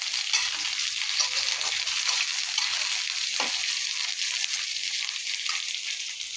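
Onions with salt fry in oil in a pan, producing a dense and continuous sizzle with a brief stir partway through. The sound is close and steady, with no talking.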